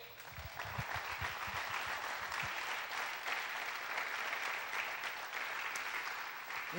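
A church congregation at a Feast of Tabernacles service applauds the Lord with sustained, moderately distant clapping, a few louder individual claps standing out at the start before it settles into an even, continuous roar.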